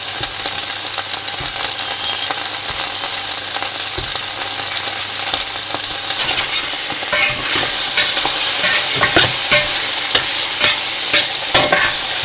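Chunks of ox meat sear and get stirred in a large roasting pan for goulash, a steady hiss of frying fat under repeated scraping and clattering strokes that grow busier and louder toward the end.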